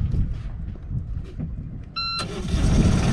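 The inboard engine of a wooden sailboat made in Japan, started by an electronic key switch: a low engine rumble, then a short electronic beep sequence, then the engine catches and settles into a louder, steady idle close by.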